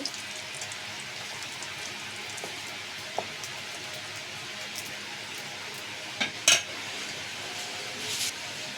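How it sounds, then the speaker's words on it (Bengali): Three dry red chillies with a bay leaf frying in a pan, a faint, even sizzle with a few sharp clinks of a utensil near the end, no talking. "তিনটে শুকনো মরিচ এটাকে একটু ভেজে নেব"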